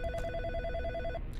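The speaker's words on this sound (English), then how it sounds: "There's somebody on the phone." A telephone rings in the horror video game In Sound Mind with a steady electronic bell trill lasting about a second over a low rumbling background, then stops.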